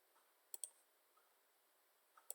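A computer mouse clicks in quick pairs, a faint close double-click near the start and another near the end, alone in a quiet room.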